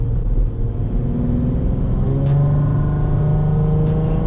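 Infiniti G35 coupe with headers blipping its engine on a rev-match downshift, a loud, close droning engine note that swells and holds steady while the car runs on through a corner.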